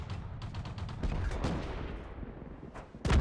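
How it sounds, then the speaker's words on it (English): Heavy cannon blasts from an SU-18 tank destroyer in World of Tanks boom out in several sharp reports, with a final loud shot at the end and no talking. "Let's see if we can get the finishing shot."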